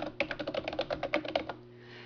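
A computer keyboard clatters with a quick run of about a dozen close, crisp keystrokes as a web address is typed, then falls quiet.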